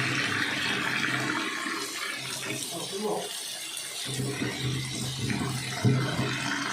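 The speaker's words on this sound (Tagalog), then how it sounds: "Hugasan muna natin guys, maraming dumi yan." Water runs steadily from a tap while pork hock is washed, with a few louder splashes and bumps near the end, close and continuous.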